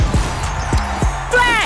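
A grenade lands and bounces in the CrossFire video game, giving several distinct low thuds in an irregular rhythm, close and fairly loud, followed by a ringing electronic tone.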